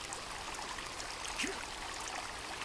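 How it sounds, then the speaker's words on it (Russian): Water flows in a steady, soft stream in the survival video game Sons of the Forest, a faint continuous trickling hiss with no voices and one brief small splash midway. "Офигеть, даже звук есть воды."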